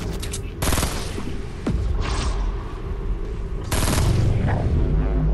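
Gunfire in a video game, fired up at a hostile thing attacking a freshly built sky base: dense bursts of loud shots in several sustained volleys, with a brief break between them and game noise continuing underneath.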